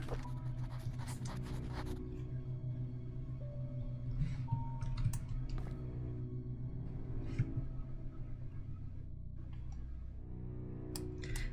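A typewriter in the video game The Painscreek Killings clacks out a letter, with faint, irregular key strikes scattered over a low, steady background hum.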